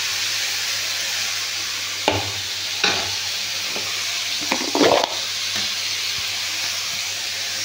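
A paste of mustard, green chilli and cumin hits okra in a hot pan, giving a steady background sizzle with a few louder bursts of stirring and frying, close by.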